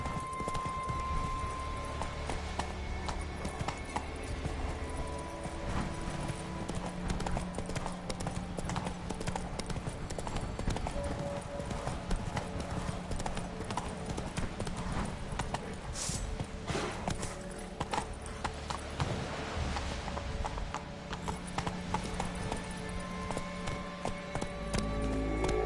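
Rhythmic clip-clop of a horse's hooves in a video game, steady and even at a trotting pace throughout, with faint game ambience underneath.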